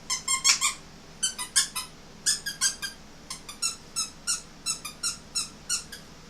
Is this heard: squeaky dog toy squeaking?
yes